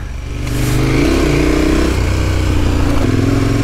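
Several KTM motorcycles and a BMW ride an off-road trail, a loud, steady engine drone with shifting pitch as the bikes rise in revs, no talking over it.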